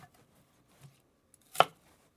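A knife slices through a fennel bulb on a cutting board with one sharp, close chop, preceded by a faint softer tap, against a quiet room with no voices.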